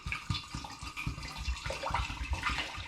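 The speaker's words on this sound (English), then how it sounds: "I'm just going to pour it straight in as I've already racked it off of the sediment." Cider, already racked off its sediment, pours into a demijohn with a gurgling, glugging stream of liquid. The pour is faint and close, and it runs continuously for a few seconds.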